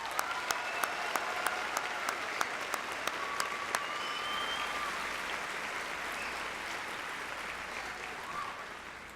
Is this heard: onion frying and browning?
no